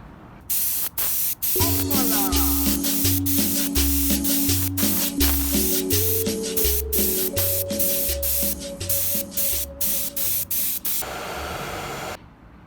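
Spray gun misting sealer coat onto a custom car seat cover, a steady hissing spray in bursts over a rhythmic background tune, ending in a brief louder blast.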